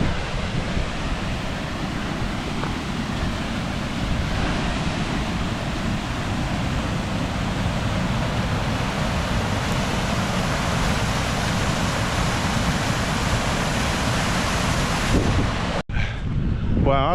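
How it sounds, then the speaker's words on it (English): Waterfalls along a trail in the Lake District valley give a steady, broad rush of falling water that fills the scene continuously and loudly, with a brief dropout near the end. "all the way along this trail is just gorgeous waterfalls."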